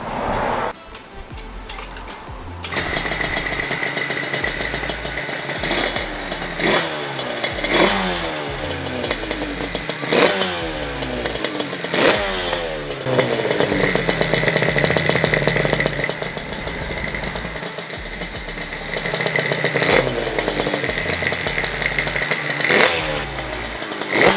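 A 200cc twin two-stroke scooter engine on a dyno fires up and then revs repeatedly, each rising buzzing whine dropping back between blips, loud and close.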